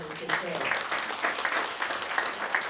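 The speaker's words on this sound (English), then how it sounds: "let's give them a round of applause because they really deserve it" An audience applauds at a school SkillsUSA chapter presentation in a steady, moderate round of clapping, with a voice speaking over it.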